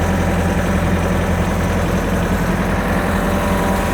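A Kubota LX-series compact tractor engine runs steadily while backing out of its front loader, giving a loud, continuous low rumble with constant vibration and no variation.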